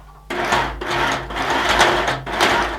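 A sewing machine runs in steady bursts, stitching a coat seam along a raglan sleeve on a garment upcycled from a table cloth, with a close, continuous mechanical whir and short pauses between runs.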